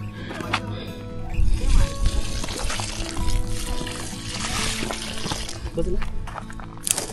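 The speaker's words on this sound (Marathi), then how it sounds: "त्याआधी झाडांना पाणी घालून घेऊ." Water is poured and sloshed from a pot onto trees at Manikgad fort during a conservation drive, splashing in uneven bursts with voices talking nearby.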